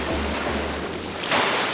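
Ocean surf washing onto a quiet beach in Penang, Malaysia, a steady broadband rush of water with a low rumble early on and a swell of spray near the end, with no voices.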